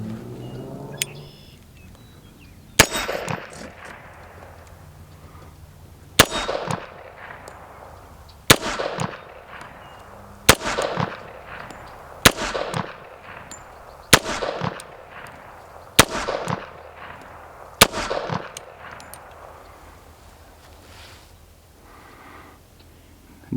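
Taurus PT 1911 pistol firing Remington jacketed hollow points at a shooting range: eight loud, sharp reports spaced roughly two seconds apart, each followed by a fading echo.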